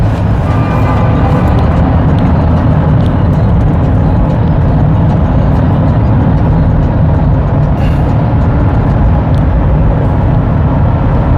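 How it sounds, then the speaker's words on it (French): Cars pass through a road tunnel, giving a loud, dense, continuous roar of traffic that echoes steadily without a break for over ten seconds. "sors du tunnel, les voitures sont en train de me menacer là."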